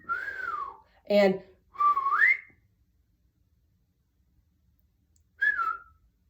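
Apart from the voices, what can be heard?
human whistling, two different types of whistles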